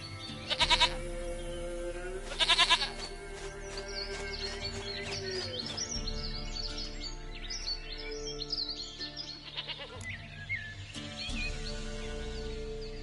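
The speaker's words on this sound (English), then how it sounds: "Goat of mine, dearest, sweetest goat." Two short, loud goat bleats early on, a bleating domestic goat in the video game The Witcher 3, rising over a continuous bed of game music and ambient noise with faint bird chirps.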